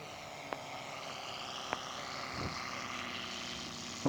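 An Antic model aircraft taking off at a scale model show for a classic air race, its propeller engine a steady, moderately distant drone with a few sharp clicks, no talking.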